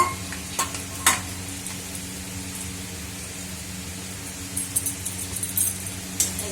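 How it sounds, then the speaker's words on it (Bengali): Poppy seeds and vegetable stalks fry in a pan with a splash of water, giving a soft, steady sizzle with occasional stirring scrapes and clinks, faint and close, with no talking. "এই যে পোস্ত বেশ ভাজা হবে, তাহলে অল্প জল দিয়ে দেবো, দিয়ে ডাটাগুলো ছেড়ে দেবো।"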